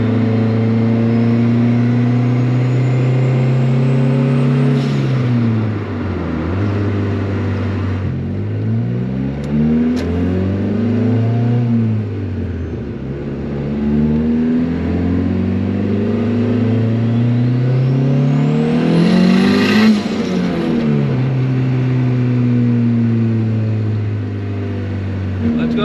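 A built turbocharged Honda Civic engine revving repeatedly, its pitch rising and falling through several loud, close sweeps with a slightly uneven, odd tone.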